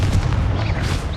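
A Confringo blasting spell firing in Hogwarts Legacy combat: a brief, loud, rumbling blast with gunfire-like punch that holds steady for a moment.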